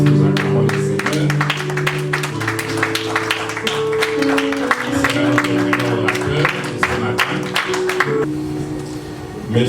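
A church convention congregation claps in a steady rhythm, sharp close hand claps falling over music and voices. The claps run almost without a break and thin out near the end.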